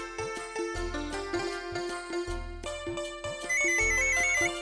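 A mobile phone ringtone plays as a bright electronic melody of repeating tones over a thumping bass beat, loud and continuous, with no speech over it.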